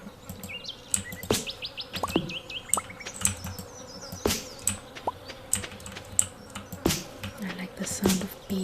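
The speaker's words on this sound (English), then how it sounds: "I like the sound of bees in the background." Bees drone softly in the background of the farming game Stardew Valley, a faint steady buzz beneath sharp keyboard taps, mouse clicks and occasional chirpy game tones.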